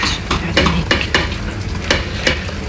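Nutmeg, white pepper and salt are stirred in a pan, giving a soft sizzling bed under a series of scraping, tapping strokes of a utensil against the pan, close and unhurried, with no talking.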